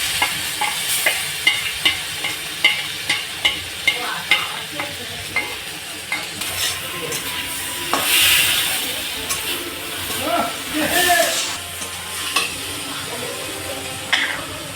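Ginger-garlic paste and chili paste frying in a pan with cumin and pepper powder, a steady close sizzle broken by repeated scraping stirs of a spatula over roughly fifteen seconds, with no talk.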